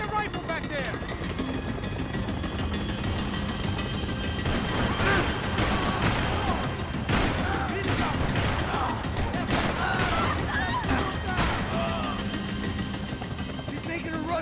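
Rifle gunfire in the Max Payne 3 video game during a chase, with rapid shots crackling over a constant loud helicopter drone while voices shout throughout.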